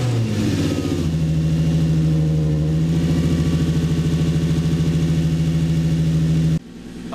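A Nissan 350Z engine runs steadily at a loud, close idle with a strong low hum for about six seconds after start-up, then cuts off abruptly near the end.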